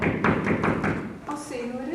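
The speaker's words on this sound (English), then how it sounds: "There's a knock on the door." Four quick, evenly spaced knocks on a door during a staged reading of a play, close and fairly loud, followed at once by a voice speaking.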